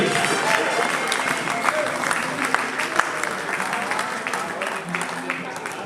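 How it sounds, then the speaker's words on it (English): Warm audience applause for a speaker at a men's business leadership conference, a thick continuous patter of many hands with sharper individual claps standing out, sustained throughout with a faint murmur of voices beneath. "A round of applause for Mr."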